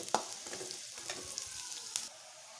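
Chopped onions fry with ginger-garlic paste for egg keema, producing a soft steady sizzle punctuated by spatula scrapes and a couple of sharp clacks against the pan.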